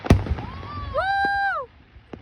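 Fireworks at a Canada Day celebration in downtown Edmonton: a sharp bang, then a long rising whistle that holds and drops off, with thin pops around it and outdoor crowd noise beneath.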